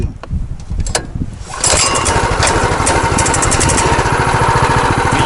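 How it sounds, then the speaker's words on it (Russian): A boat's outboard motor fires up while the operator stays seated, a brief cranking clatter giving way to a steady, loud, close idling drone, with a short spoken word near the start. "просто даже с места я могу запускать двигатель"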